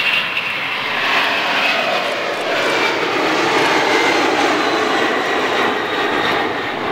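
F-22 Raptor jet aircraft engine roaring steadily and loudly, a broad sustained blast that swells slightly mid-way and holds for the whole stretch with no talking over it.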